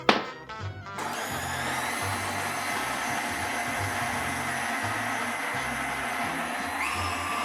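An electric hand mixer whirs steadily as it works a dough in a bowl for a Mardi Gras recipe, a continuous motor drone with a rhythmic low thumping as the dough knocks against the bowl.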